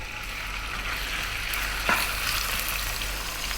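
Lamb meat sizzles steadily in a pan of hot oil with cumin seeds, one brief stirring scrape partway through and no talking.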